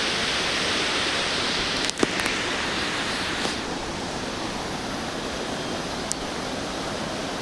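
Glacier-fed Jogini waterfall near Manali rushes in a steady, loud broadband roar of falling water that holds constant throughout, with a few faint clicks over it.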